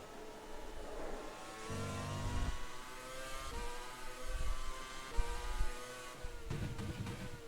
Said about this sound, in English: the internal sounds here from the cockpit are pretty good.